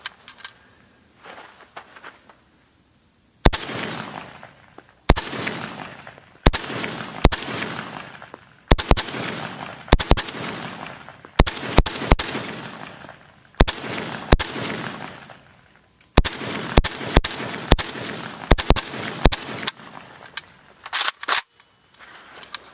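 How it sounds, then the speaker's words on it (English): AK-47 rifle fire at an outdoor range: sharp, loud cracks, single shots and quick strings with short pauses, each followed by a fading echo, with no talking. "might as well shoot some actual AK-47"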